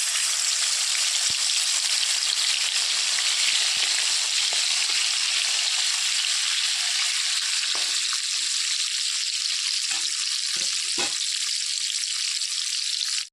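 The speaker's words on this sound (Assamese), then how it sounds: "এয়া মই মাছ এজনীকৈ ভাজি লওঁ।" Pieces of boriola fish fry in hot oil in a wok, giving a loud, continuous sizzle that lasts the whole time. A few faint knocks are heard near the end.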